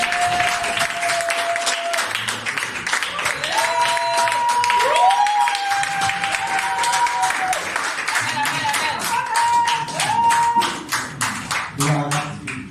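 A crowd at a Sunday church service applauds and claps steadily while voices call out and a sustained tone sounds over the clapping.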